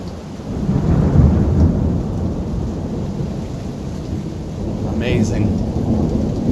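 A nearby thunderstorm in Tennessee with frequent lightning: a deep, continuous roll of thunder under steady heavy rain, loud and close, with a faint brief chirp near the end.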